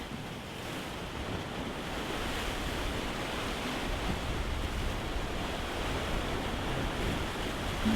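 Ocean surf at dawn on Udo Island off Jeju rolls in as a steady, close, continuous wash of breaking waves with a slight wind hiss, and no voices.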